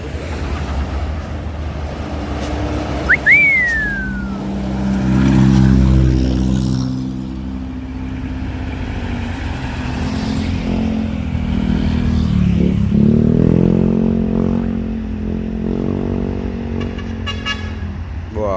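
Tanker trucks rolling along a road with a loud, steady engine rumble that swells as they pass close by, accompanied by a brief horn toot.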